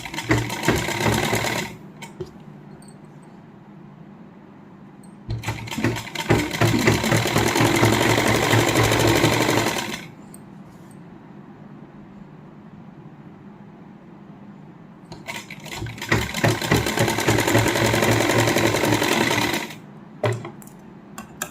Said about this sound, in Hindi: अब सबसे पहले इनके शोल्डर्स को सील लेंगे